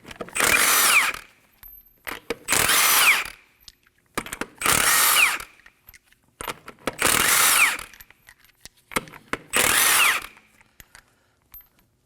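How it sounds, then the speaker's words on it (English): A power tool with a 21mm socket removing lug nuts from a front wheel of a 2011-2016 Kia Optima, five loud, evenly spaced impact-gun bursts of about a second each, separated by brief quiet gaps and small clicks. "Using a 21mm socket, go ahead and remove the lug nuts."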